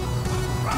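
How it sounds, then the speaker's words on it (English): A dog yips and whimpers in short, bright, howl-like cries, close and fairly loud, answering coyotes at night during a Commodore 64 contact with the ISS. "And Puppy Fractic II is serenading the coyotes."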